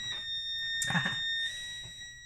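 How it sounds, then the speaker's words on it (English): A prepaid electricity meter's steady high warning tone beeps continuously, with a brief thump and rustle partway through at close range. "there goes the meter telling us to feed the electricity"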